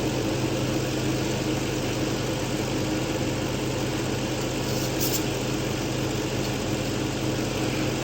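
A hot Infiniti V8 engine idles steadily with the hood open during a transmission fluid dipstick check, giving a continuous, even low rumble with no breaks or voices.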